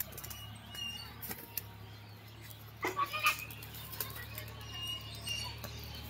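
A pigeon beats its wings in a few close bursts of flapping near the middle of the moment, over a steady low hum and faint background noise.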